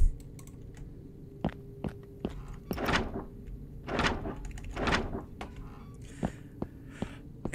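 Doors being tried and rattled in the video game Joyville, a series of sharp knocks and thunks with a few louder handle-rattling bursts, fairly quiet and spread across the clip with no talking.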